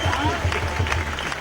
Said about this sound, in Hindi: तालियां और डफलियां बजती रहीं